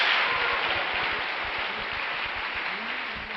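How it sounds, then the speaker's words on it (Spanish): A church congregation claps for the Lord during a Spanish-language sermon, a loud steady wash of applause that fades slightly, with faint voices underneath. "démosle un aplauso al Señor"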